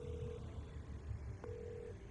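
Telephone ringing in the Chicken Police video game: two steady electronic ring tones separated by a short pause, heard alone at moderate volume over a low background hum.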